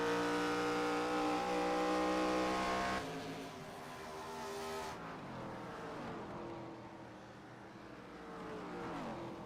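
ARCA Series stock cars lapping Phoenix Raceway, a loud sustained engine roar that holds steady, then drops and shifts as cars pass, with layered engine tones sweeping in pitch toward the end.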